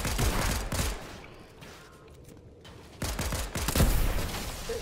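Gunfire from a firefight in the video game Fortnite, bursts of rapid shots in two clusters separated by a quieter gap, fairly loud and close.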